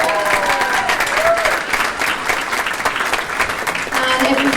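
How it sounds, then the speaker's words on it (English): Steady applause from wedding guests after the speeches, loud and continuous throughout with a few cheers and voices mixed into the clapping. "I think everyone deserves another round of applause"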